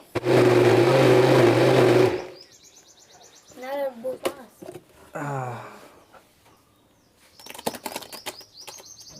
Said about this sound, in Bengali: এবার ব্লেন্ড করার পালা